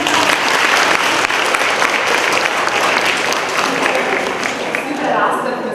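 An audience claps at a children's literature event, a loud, dense round of applause that runs without pause and eases only slightly toward the end.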